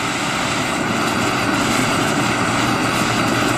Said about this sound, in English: All right, so I'm gonna turn on the fan here. First, we'll put it on low.